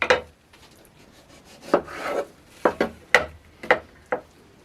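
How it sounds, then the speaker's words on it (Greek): A knife cuts two large tomatoes into thin slices on a wooden board, giving seven or eight close, crisp taps and short rasping strokes in an irregular rhythm, with no talking. "Και 2 μεγάλες ντομάτες σε λεπτές φέτες. Τις κόβουμε λεπτές για να μην βγάλουν πολλά ζουμιά μετά."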